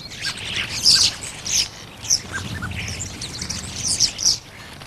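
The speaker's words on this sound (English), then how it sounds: "there's one cheeky robin, a greenfinch, and the usual gang of noisy starlings." Small garden birds at a bird table, including a robin, a greenfinch and a gang of noisy starlings, give bright chirps, squawks and scattered calls in quick irregular bursts, fairly close and steady throughout.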